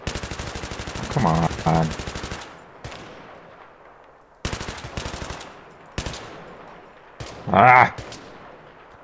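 Battlefield 3 gunfire in a co-op mission: long, rapid automatic bursts of rifle fire in several volleys separated by short pauses, loud and close, with a player's brief exclamations between them.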